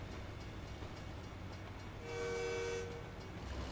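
A train in American Truck Simulator rumbles steadily with a horn sounding midway, fairly faint and distant, with no voices.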